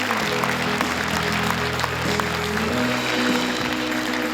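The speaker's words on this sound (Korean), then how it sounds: "큰 박수로 환영해 주십시오." Audience at a Gyeongbuk forum on next-generation nuclear reactors giving a sustained round of applause to welcome introduced officials, with a low hum underneath that drops away partway through.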